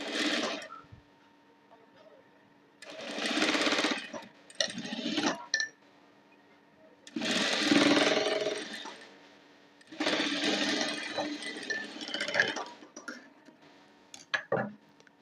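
A sewing machine runs edge stitching on an unlined four-tuck blouse in several bursts of a few seconds each, separated by pauses, with someone talking in between and faint clinks of handling.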